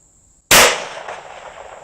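A single sharp shot from an antique pistol, a loud close crack followed by a long reverberant tail that decays over more than a second.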